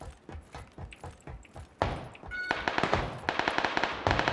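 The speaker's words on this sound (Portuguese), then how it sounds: "Tiro na minha frente, no 60." Gunfire in a squad battle royale match crackles in rapid bursts, sparse at first and then loud, dense volleys of shots in quick succession, with no voices.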